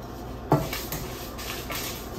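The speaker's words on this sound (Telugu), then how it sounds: "ఈ రెండు మనం లో ఫ్లేమ్ లో పెట్టుకొని డ్రై రోస్ట్ చేసుకోవాలి" Sesame seeds and dried red chillies dry roasting in a pan over low flame, heard as a soft rattle and faint scraping with one sharp clink of utensil on pan near the start, fairly quiet throughout.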